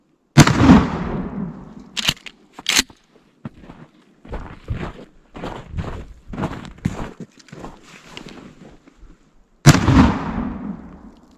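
A 2023 Tac-14 shotgun fires slugs at 10 yards, giving two loud, close blasts with ringing decay that bracket a stretch of quieter clatter and handling noise.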